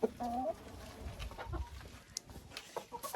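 Bantam-cross and other hens cluck in a cool chicken coop, a few close, brief calls and soft clucks over faint background rustle.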